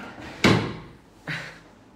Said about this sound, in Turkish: Ne kadar şu çekmece çok zor açılsa da.